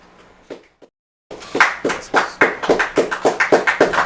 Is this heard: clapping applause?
yes